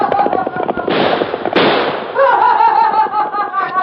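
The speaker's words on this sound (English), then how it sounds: "Gee, he shot at us." In a vintage radio western drama, a sharp burst like a gunshot cracks out amid clattering commotion, loud and close, followed by a brief whistling ricochet-like tone.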